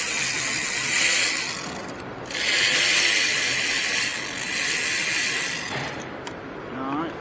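A ratchet works 10 mm bolts out of a camshaft solenoid on a Buick Verano four-cylinder Ecotec engine, giving steady clicking in several stretches with brief pauses and a constant high hiss behind it.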